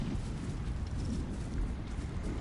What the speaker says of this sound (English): I hate it when there are multiple explosions and projectiles